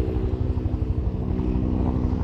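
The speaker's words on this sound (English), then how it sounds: "You can hear that advancing blade, that whop, whop, whop. It's very synonymous with the Huey." A Huey helicopter's rotor thumps steadily with the whop of its advancing blade over a low engine rumble, close and continuous, with no voices, at a Vietnam-era action display at Temora Aviation Museum.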